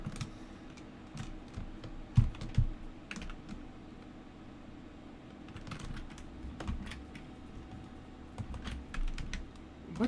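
Computer keyboard typing during a game build stream, with irregular clusters of quick, light key clicks over a low steady background hum, close and moderately loud with brief pauses between bursts.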